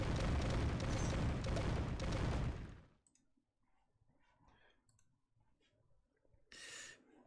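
Toon Blast disco ball and bomb combo triggers as a dense, loud burst of sparkling, booming effects lasting a few seconds, then cuts to faint clicks and small pops, with a brief bright chime near the end.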